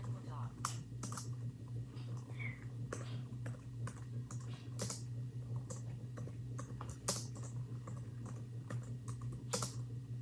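Braille entry on a Mantis keyboard paired with an iOS device, soft rapid key clicks in irregular bursts over a steady low hum, fairly faint and close.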